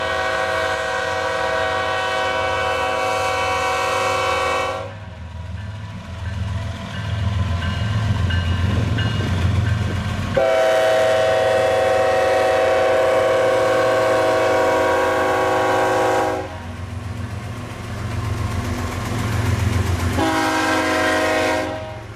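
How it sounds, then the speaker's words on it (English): A train rumbles past along Route 66 in Oklahoma with steady clatter, sounding its horn in long blasts that start and stop several times; loud and close throughout. "also on the same street, a train"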